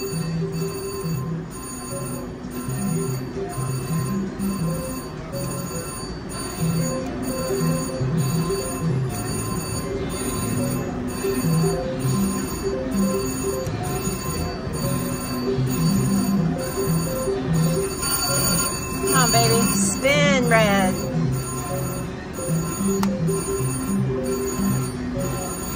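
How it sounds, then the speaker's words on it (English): A new high-stakes casino slot machine rings its jackpot bell down the row, a fast metallic ringing rising near the end above steady machine chimes and floor noise, without talking. "That's his machine down there ringing"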